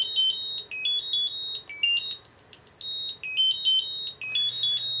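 A Cube Bluetooth tracker's alarm sounds a loud, shrill melody of rapid high-pitched electronic beeps in repeating bursts with brief gaps between phrases.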